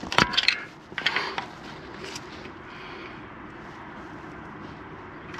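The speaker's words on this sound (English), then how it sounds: "Push your piston all the way back home." Brembo motorcycle brake caliper pistons being pushed back into their bores ahead of fitting new EBC pads, giving a few sharp metallic clicks and scrapes early on and then a quiet, steady background hiss.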